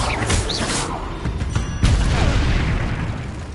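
In a Hogwarts video game, a Confringo spell explosion makes a deep, rumbling boom near the middle, amid continuous crashing spell effects.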